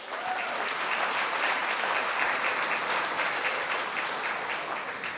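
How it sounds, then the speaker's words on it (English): An audience at a community enhancement awards ceremony claps for the winners, producing dense, sustained applause that holds steady throughout and fades slightly at the end. "can we please give one last round of applause for the remarkable community enhancement winners for this year?"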